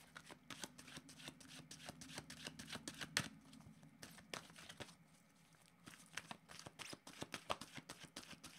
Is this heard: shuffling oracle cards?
yes